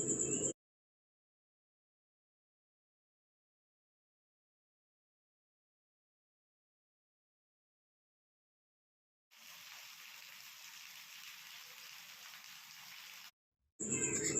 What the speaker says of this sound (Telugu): ట్వెల్వ్ టు త్రీ లోపల మళ్ళీ రెయిన్ స్టార్ట్ అయింది